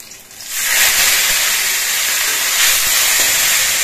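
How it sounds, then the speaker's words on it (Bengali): Hilsa fish heads dropped into hot oil with black cumin and slit green chillies, giving a loud, steady frying hiss that swells at the start and then holds close and continuous. "এবার ইলিশ মাছের মাথাগুলো দিয়ে দিচ্ছি।"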